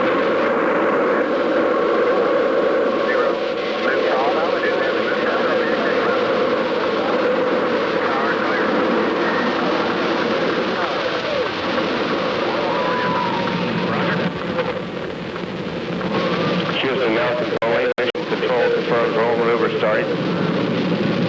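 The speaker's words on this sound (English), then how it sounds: "We have main engine ignition." Space Shuttle Columbia main engine ignition and launch: a continuous, dense, rumbling roar held steady throughout, with mission-control voice calls running over it.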